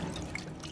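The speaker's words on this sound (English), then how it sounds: "Pouring chemicals onto your three-fingered hand over and over is exactly the type of weird, freaky imagery" Chemicals poured onto a three-fingered hand during the Resident Evil Village healing animation, heard as a soft, steady liquid trickle with faint dripping, close and quiet throughout.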